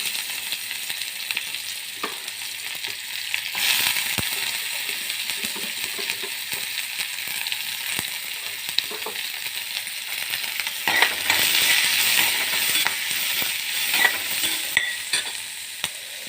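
Finely chopped onions sautéing in hot oil after mustard seeds have spluttered, a continuous crackling sizzle with occasional spoon clinks and scrapes, swelling louder near the end, no voices.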